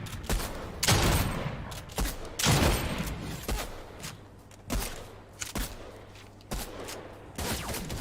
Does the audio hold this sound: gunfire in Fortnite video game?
yes